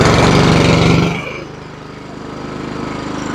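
Honda lawn mower engine catching after a pull of the cord on full choke, a loud rough burst that drops within a second to a steady, quieter rhythmic idle.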